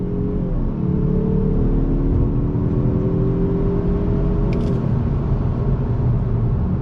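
A 2021 Mazda 3 Turbo pulling hard in sport mode, its engine note rising steadily in pitch as it accelerates under throttle, loud and continuous from inside the cabin with no talking.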